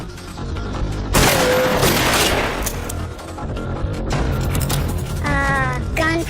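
Gunfire erupts in a tense standoff scene from a crime drama, a dense burst of loud shots and booms filling the air, followed by scattered impacts and whistling tones under rumbling background noise.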